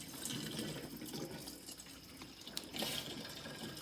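Gasoline pours from a gas jug into a tank while rebuilding a Murray, a steady close liquid splash and trickle with a brief clunk near the end.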